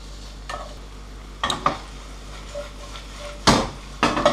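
Lardons with rosemary and a vegetable garnish sweat in a pan for artichokes barigoule, giving a soft low sizzle with a few sharp stirring scrapes and clinks scattered through, no talking.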